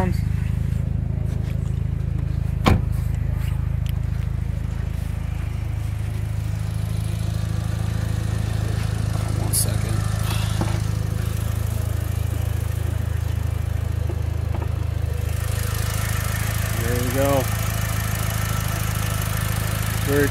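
A 2006 Mitsubishi Lancer Evolution IX MR engine idles steadily at close range, a low even rumble running throughout, with a person speaking briefly over it and a few clicks.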